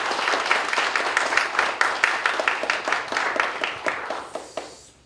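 A church congregation claps steadily for an outgoing representative president at a handover thanksgiving service, the brisk applause rippling for several seconds before thinning out and fading to a few last claps.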